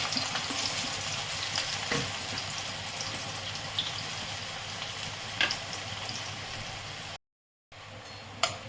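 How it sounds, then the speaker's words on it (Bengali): Onions frying for a home-made chicken biryani give a steady, close sizzle with occasional stirring scrapes and a brief drop to silence near the end. "পেঁয়াজটা ভাজছি"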